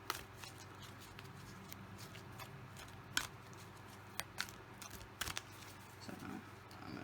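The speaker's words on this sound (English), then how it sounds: "I'm going to shuffle 3 times more" Tarot cards being shuffled by hand, soft papery riffles and flicks with a few sharper snaps, fairly quiet and close over low room hum.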